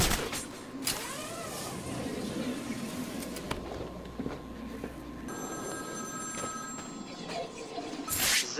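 A telephone rings within the game Batman: Arkham City, a steady electronic trill in the middle of the clip heard over a busy, noisy game soundscape with low rumbles and thuds.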